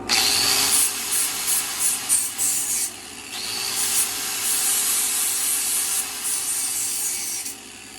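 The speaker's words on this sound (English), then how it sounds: "So the first thing that we're gonna do is just kind of chamfer down the ends." Chamfering the ends of a car cowl panel produces a steady, close, abrasive rasping hiss that runs almost unbroken for the whole stretch, rising and dipping slightly in strength without any talk.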